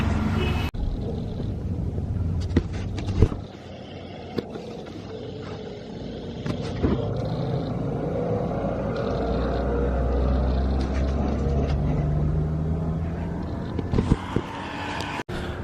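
A Honda Civic EM2 on adjusted coilovers drives along, its engine and road noise forming a steady low rumble with a few knocks and bumps heard from inside the car.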